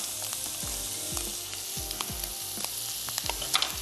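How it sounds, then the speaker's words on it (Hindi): Beef stir-frying in a pan with capsicum and carrots added, a steady loud sizzle with repeated scraping stirs of a spoon, close up and without voices. "बीफ के साथ मैं वेजिटेबल्स ऐड कर देती हूँ ताकि वो भी स्टर फ्राई होना शुरू हो जाए"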